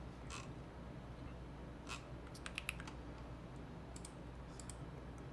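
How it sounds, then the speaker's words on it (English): Keys click faintly on a Bubble 75 mechanical computer keyboard in scattered bursts of typing over a steady low background hum, with no talking. "my favorite keyboard is the one I use right now, Bubble 75"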